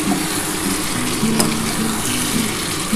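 Mutton sizzles and crackles in hot oil in a pan, a continuous close frying hiss with occasional stirring scrapes, no voices over it.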